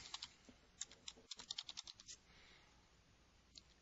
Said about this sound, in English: And I'm going to type in my text.